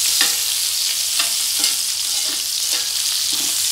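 Plantain slices fry in coconut oil in a pan, a steady bright sizzle filling the clip while a utensil stirs them in a few soft, spaced scrapes, close and fairly loud with no talking.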